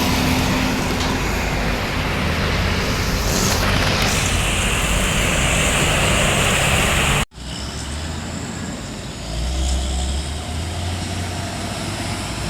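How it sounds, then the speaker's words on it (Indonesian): A Cendana bus passing on a busy road: a loud, broad roar of engine and tyres fills the scene, then cuts off sharply, giving way to lighter traffic rumble. "Ini ada bus cendana."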